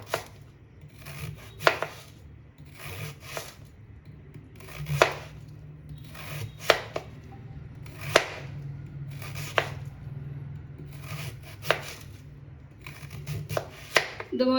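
A knife chopping a banana stem into round slices on a board, repeated sharp close chops in short bursts with brief pauses between them, steady background hum and no talking.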